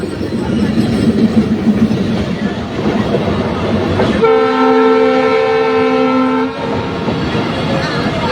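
A train rumbles past nearby with a loud, sustained horn blast in the middle, wheels clattering steadily throughout.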